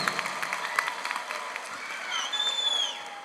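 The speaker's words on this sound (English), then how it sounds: "Give those guys a round of applause" Applause from a crowd at a county graduation ceremony for the class of 2025, moderately loud and distant-sounding clapping with a few sharper claps, while high whistles or cheers rise over it near the end.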